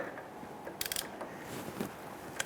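A hand ratchet snugs down rear brake caliper bolts on a 2005-2010 Chrysler 300, with a quick burst of faint clicks followed by a few scattered single clicks in a quiet garage.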